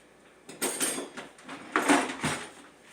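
A spatula spreads melted butter over dough in a metal pan, producing soft repeated scraping and light clanking strokes close by.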